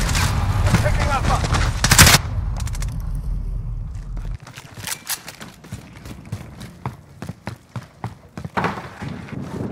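Carbine fire in Call of Duty: Modern Warfare roars in a dense, loud burst over the first few seconds with one sharp peak, then gives way to a patter of rapid footsteps and scattered clicks.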